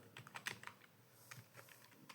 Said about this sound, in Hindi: हम सीपीसीटी के लिए हिंदी टाइपिंग की प्रैक्टिस कर रहे हैं